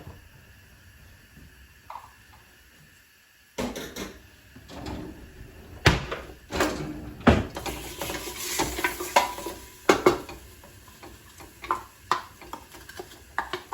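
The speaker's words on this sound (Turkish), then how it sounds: "Sıvı yağı döküyüm, Biraz çiçek yağı. Soğanlarımı kavuruyorum." Onions fry in sunflower oil, sizzling in a pan with a steady crackle, broken by repeated sharp clacks and scrapes of a utensil stirring close by.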